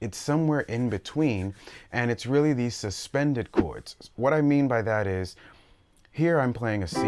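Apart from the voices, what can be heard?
No distinct noise like a dog, phone or traffic.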